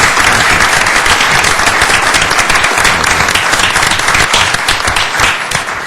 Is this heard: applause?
yes